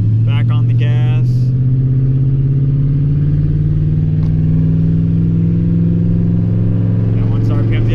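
A car with an automatic transmission accelerating after being shifted into second, a loud steady engine drone rising slowly in pitch, heard from inside the car, with brief speech at the start and end.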